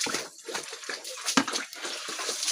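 Water is poured out of a container on a rural pig farm, a splashing, sloshing gush over a few seconds with brief voices nearby.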